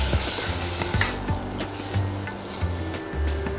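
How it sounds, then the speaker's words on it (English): Onions and tomatoes sizzle in a pan for vada curry while a spoon stirs them, giving continuous frying hiss with regular soft scraping strokes. "And I'm going to mix this well."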